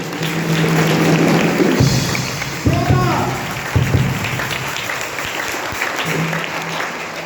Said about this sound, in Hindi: एक बार जोरदार ताली यीशु मसीह के नाम से।